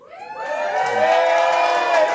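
Comedy club crowd in Opelika, Alabama erupts into loud, sustained cheering, whoops and clapping, swelling quickly and holding steady.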